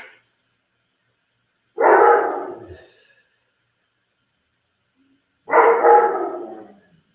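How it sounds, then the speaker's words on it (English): A dog indoors gives two separate loud barks several seconds apart, each a single rough woof with nothing else heard between them. "my dog must have heard somebody drive up outside."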